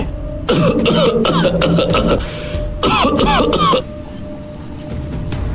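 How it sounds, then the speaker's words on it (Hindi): An old man gives two harsh bursts of coughing and throat-clearing, close and loud, each a cluster of rough hacking sounds separated by a short pause. "तभी दादाजी खांसने लगे"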